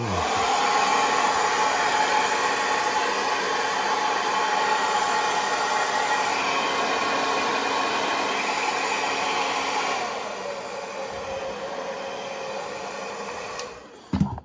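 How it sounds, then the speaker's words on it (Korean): A hair dryer blows hot air to shape a finished striped crochet backpack, a steady whooshing drone held close for about ten seconds, then dropping in level and cutting off near the end. "드라이기로 좀 열을 좀 해주면서 모양을 잡으면은"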